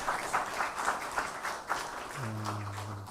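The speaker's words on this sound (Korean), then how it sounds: "은혜로운 찬양해 주신 우리 성가대원들에게 다시 한번 감사의 박수하겠습니다." A university chapel congregation claps in thanks for the church choir, fairly quiet scattered applause that thins out toward the end as a low sustained tone enters.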